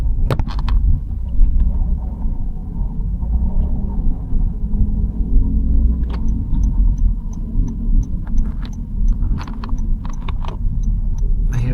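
Heavy road traffic near the Mall of Asia rumbles steadily as a car idles and creeps in congestion, a constant low engine drone with occasional faint clicks and knocks.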